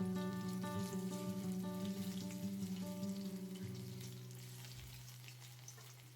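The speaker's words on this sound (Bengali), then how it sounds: "এবার ওই একই তেলে একইভাবে বাদবাকি যেগুলো ছিল সেই পকোড়াগুলো কিন্তু আমি ভেজে নেব" Yardlong bean pakoras crackle and sizzle as they fry in hot oil, a steady, close bubbling hiss that eases off slightly toward the end, with no voices.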